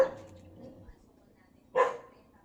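Dogs bark on a farm, with one sharp nearby bark standing out against quieter yips and background voices.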